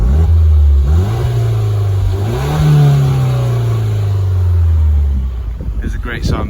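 Rear-end sound of a warm Peugeot 208 GTI 1.6 as the engine is revved twice, swelling from idle and settling back down, loud and near, with a clatter at the end.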